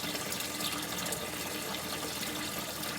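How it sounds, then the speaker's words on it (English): Water from an external siphon trickles slowly into a garden bed. The flow is a soft, continuous splashing gush, steady and close, with no voices. "slow water flow filling the bed"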